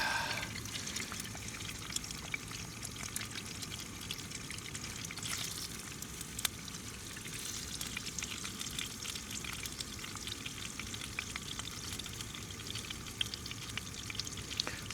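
An egg frying in a pan while wild camping, a steady close sizzle and crackle with occasional sharper pops, continuous and even throughout with no talking.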